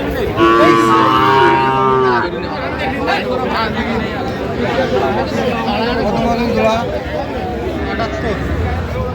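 A Sahiwal bull calf moos loudly and close at a Kurigram cattle market, one drawn-out call in the first two seconds, followed by steady crowd chatter and trading voices.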